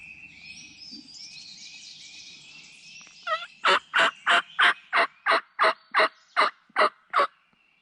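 A distant wild turkey gobbles in a long rapid series of about a dozen evenly spaced, loud pulses, following faint background bird chirps, in the South Carolina Piedmont.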